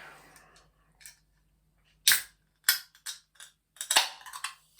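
A cold can of Levi Roots Caribbean Crush energy drink is opened up close in several sharp clicks and cracks. One crisp pop comes near the middle and a short hissing burst comes toward the end, with quiet pauses between and no speech.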